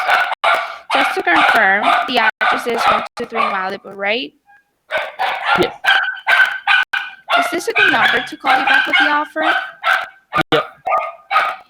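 Dogs barking and yipping repeatedly in the background during a phone call about selling a property, the sharp barks scattered throughout and overlapping a conversation between two people.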